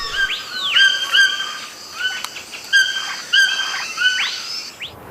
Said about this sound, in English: Maybe the toucan.